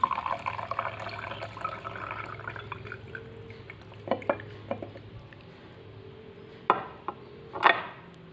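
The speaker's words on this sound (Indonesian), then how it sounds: "Kemudian ditambahkan dengan air secukupnya." Water is added to sand in a glass, giving a soft, trickling, splashing pour at first, then sparse drips and a few sharper clinks against the glass.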